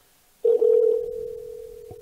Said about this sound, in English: Sorry for the ringing.